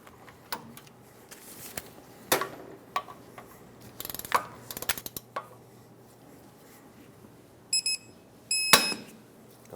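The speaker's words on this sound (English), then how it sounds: "Now we can torque them all. 149 foot-pounds is the torque." A torque wrench tightens the upper ball joint bolts on a 2003-2009 Dodge Ram 2500 to 149 foot-pounds. Scattered faint clicks and light ratcheting come and go in a quiet space, with a sharper cluster near the end.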